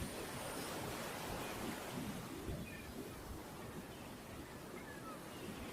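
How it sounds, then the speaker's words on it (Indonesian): Surf rolling onto a beach at high tide, a steady broadband wash of waves with wind noise, continuous and fairly even throughout with no clear individual breakers. "Ombaknya lagi pasang"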